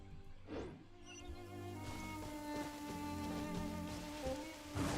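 Rain falls steadily in the video game Genshin Impact, a soft, continuous patter with some tonal game sounds layered faintly on top.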